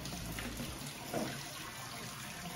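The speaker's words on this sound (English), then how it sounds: "Give these a rinse." Canned cannellini beans rinsed under a running kitchen tap, a steady close splashing water stream that runs alone throughout, with one brief louder gush partway through.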